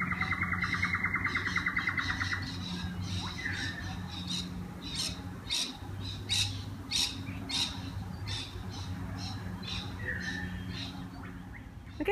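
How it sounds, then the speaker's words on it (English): Birds call repeatedly outdoors, sharp chirps and squawks recurring in quick bursts over a steady low hum, moderately close. "And listen to the birds."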